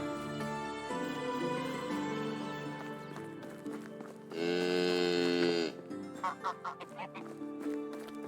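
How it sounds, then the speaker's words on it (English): Cow mooing in the medieval farming game Medieval Dynasty, a loud drawn-out low moo in the middle over layered game ambience and music, followed by short choppy sounds. "There's a loud cow."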